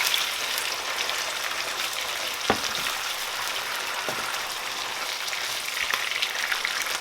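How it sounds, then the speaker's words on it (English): Chopped tomato simmering in a frying pan for a homemade fried fish tomato sauce gives a steady, moderate sizzle and bubbling crackle throughout, with a few sharper pops, and no talking. "After a few seconds of letting that simmer on its own, I'm going to add my chopped tomato."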